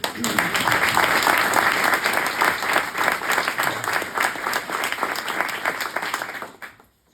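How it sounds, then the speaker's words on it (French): Sustained applause from an audience at a municipal ceremony honouring a departing councillor, dense and steady for about six seconds before fading out quickly. "Et on peut aussi l'applaudir."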